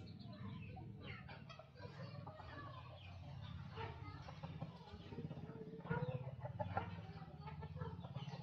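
Many chickens in coops cluck and chatter in a busy, overlapping flurry, faint and close together, with no talk.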